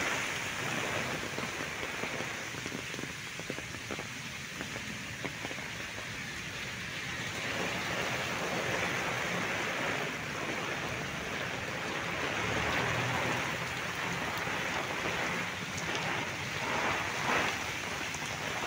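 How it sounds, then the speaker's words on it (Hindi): Steady, dense rain roars without a break, with low rumbles rolling underneath like distant thunder; no voices. "मूसलाधार यानी आंधी तूफान नाल मूसलाधार बारिश"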